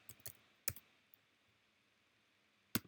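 Keys being struck on a computer keyboard, heard as a few isolated sharp clicks spaced apart over a quiet background, with no voices.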